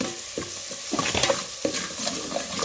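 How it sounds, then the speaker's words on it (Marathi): Chopped onion sautéing in a pan with salt, a spoon scraping and stirring it in a few distinct strokes over a soft, steady frying hiss, close up with no voices. "आता हा कांदा छान परतून घ्यायचा आहे"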